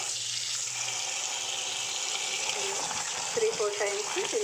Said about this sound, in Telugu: 3-4 టైమ్స్ ఇలాగా నీట్గా కడుక్కున్న తర్వాత అందులో ఉన్న మట్టి మొత్తం క్లీన్గా వెళ్ళిపోవాలి.